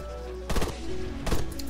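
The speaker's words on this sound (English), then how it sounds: "No, I'm just shooting through the trees." Two loud bursts of rapid gunfire ring out in the video game Arma 3 as a player shoots through trees, each burst separated by under a second, over a steady engine-like drone.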